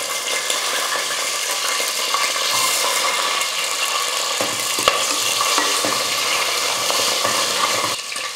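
Garlic cloves, green chillies and whole spices frying in hot oil, a loud, dense, steady sizzle close up with faint clinks of a utensil stirring, no voices.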